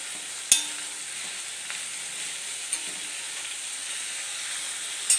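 Onions with salt sizzle softly in a pan for egg curry, a quiet steady frying hiss broken by a few light clicks and taps of stirring.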